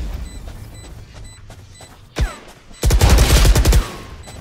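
Gunfire in the video game Valorant: a single sharp shot, then a loud, rapid burst of automatic fire lasting about a second, over quiet game ambience with faint beeping tones.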